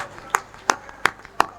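An audience at a mushaira, a poetry gathering, claps four times in slow, evenly spaced single claps, sharp and close, with a faint voice in the background.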